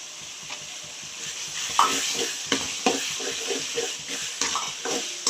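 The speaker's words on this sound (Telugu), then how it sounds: "ఇప్పుడు అల్లం వెల్లుల్లి పేస్ట్ పచ్చి వాసన పోయేంత వరకు వేయించి" Ginger garlic paste fries in a pan for fish curry, crackling and sizzling at close range while a utensil scrapes and stirs in repeated strokes, with no talking.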